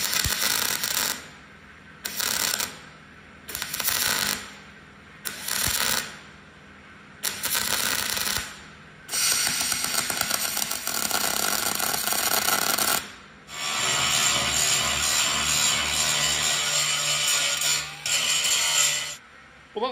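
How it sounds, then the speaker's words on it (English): Welding a frame head panel, held by a G-clamp, onto a rusty 1956 VW Beetle oval: a run of short, regular crackling bursts gives way to long continuous stretches of harsh, sizzling noise, loud and close, with no talking. "So let's get this one welded in."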